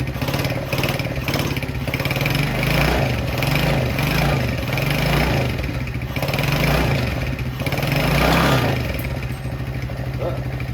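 A 70cc Chinese quad's small engine idles loudly and steadily up close, its rapid chugging pulse holding even throughout with slight speed wobbles, in a cold garage.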